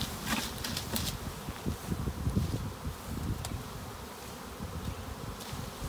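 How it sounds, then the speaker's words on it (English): Dense, continuous buzzing of a honeybee swarm in a small tree near an apiary, thousands of bees filling the air, steady and close with soft rustling underneath. "there are thousands of bees flying around"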